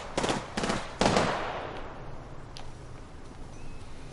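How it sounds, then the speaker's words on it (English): Bursts of gunfire in the Apex Legends shooter: two quick volleys of shots, then a louder burst trailing into a decaying echo, followed by quieter background game sound. "Reloading. They're shooting at me."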